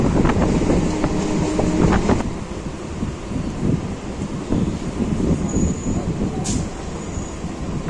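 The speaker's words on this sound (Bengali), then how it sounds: "আমাদের ট্রেন এসে পৌঁছালো শাসান রোড" A local train on the Namkhana line, Sealdah–Laxmikantapur route, rolls into a station with a steady low rumble of wheels and carriages, loud and close, with wind buffeting and a brief high tone near the end.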